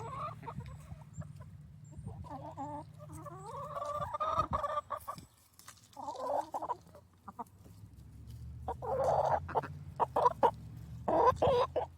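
Backyard hens cluck and murmur around an enrichment treat toy, with soft repeated clucks and a few louder squawking calls, close by.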